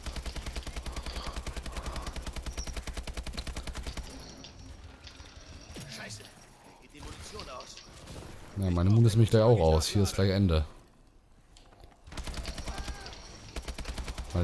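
Rapid automatic gunfire in Advanced Warfare Exo Zombies on the Carrier map, long rattling bursts of closely spaced shots with a louder, denser volley in the middle, while someone talks over parts of it.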